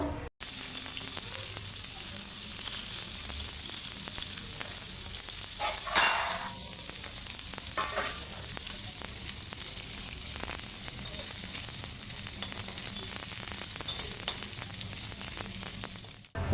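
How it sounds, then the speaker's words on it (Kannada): Cut paneer pieces fry together on a tawa for a hotel-style peas paneer gravy, a loud, steady oil sizzle running throughout, with a few stirring scrapes and no speech. "ಕಟ್ ಮಾಡಿ ಇಟ್ಕೊಂಡಿರೋ ಎಲ್ಲ ಪನ್ನೀರನ್ನು ಒಂದೇ ಸಲ ಫ್ರೈ ಮಾಡ್ಕೊಳ್ಬೇಕು"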